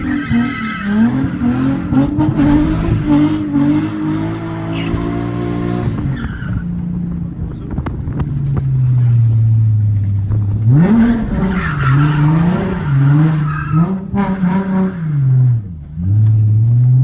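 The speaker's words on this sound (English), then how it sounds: "it's purely just a stock 350z with a tune and an exhaust pipe" A Nissan 350Z sports car with a tune and aftermarket exhaust revs hard and steadily, its pitch rising and falling through gear changes, loud and close with no talking.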